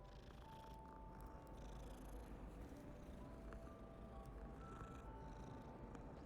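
A cat purring in the video game Hogwarts Legacy: a steady, low, close rumbling purr that runs unbroken throughout, with faint tonal game chimes drifting in the background.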